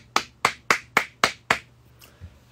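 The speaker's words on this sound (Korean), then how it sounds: "소정의 박수 드립니다" Six sharp hand claps from one person in an even, quick rhythm, close and fairly loud, followed by a couple of faint taps.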